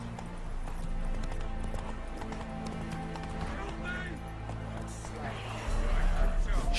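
Horse galloping in The Witcher 3: Wild Hunt, a steady rapid patter of hooves mixed with game sounds and music, with a voice speaking over it.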